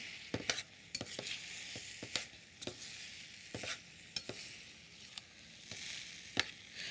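Cooked rice with yellow split peas being stirred into a lemon juice mixture, a quiet series of soft scrapes and wet clicks from a spoon against a bowl, close and fairly faint.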